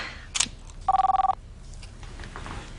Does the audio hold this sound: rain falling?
no